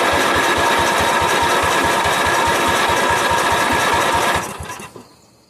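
A 1977 Bolens G10 garden tractor engine, suspected of a bad head gasket, cranks with a rapid steady chugging rhythm, loud and close, then cuts off and trails away near the end without catching.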